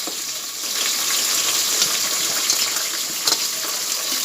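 Onion, tomato and carrot pieces sizzle steadily in a hot pan for chicken biryani, a continuous close hissing fry with no talking.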